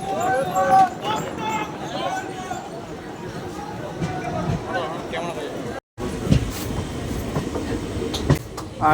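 A passenger train rolling toward New Cooch Behar station, with clattering wheels and rumble under intermittent nearby chatter.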